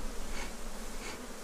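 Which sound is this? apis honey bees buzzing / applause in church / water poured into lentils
apis honey bees buzzing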